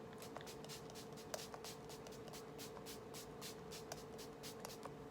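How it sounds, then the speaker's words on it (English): Urban Decay All Nighter setting spray is spritzed onto a face in a quick run of short, soft hissing pumps, many in a row, faint and close with no talk over them. "Let me go ahead and spray my face."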